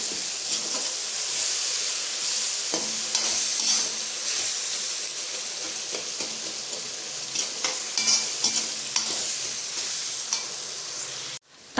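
Tomatoes with asafoetida and curry leaves sizzle and hiss steadily in a pan while being sautéed for brinjal and drumstick sambar, with scattered scrapes and taps from stirring throughout, close and fairly loud.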